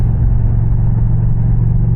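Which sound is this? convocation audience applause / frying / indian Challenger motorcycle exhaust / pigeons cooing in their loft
indian Challenger motorcycle exhaust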